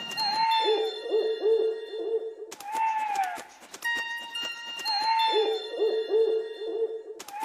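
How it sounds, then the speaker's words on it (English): Owl hooting, a clear tonal call that repeats in two long phrases with brief pauses, loud and close, with no talk over it. "Owl."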